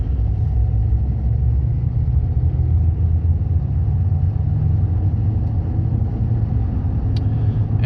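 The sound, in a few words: 2011 Ford F250 truck driving, tire noise from 35-inch tires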